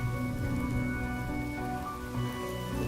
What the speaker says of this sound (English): Without this rain,